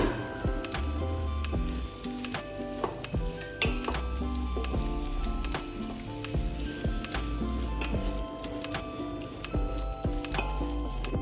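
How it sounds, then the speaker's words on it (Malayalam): Onions sizzle and fry steadily in a pot for Tamil Nadu style chicken biryani, with repeated scraping and clanking from stirring throughout, close and fairly loud, no talking. "ഇടയ്ക്ക് നമ്മൾ ഈ പാത്രം തുറന്നിട്ട് നമ്മളുടെ സവാള ഒന്ന് ഇളക്കി കൊടുക്കണം"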